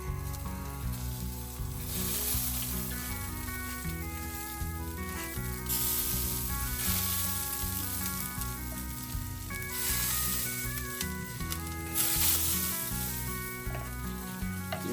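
Rich butter is basted onto a beer can chicken cooking on a Weber Smokey Mountain, hissing and sizzling continuously under steady background music for the whole stretch, close and moderately loud.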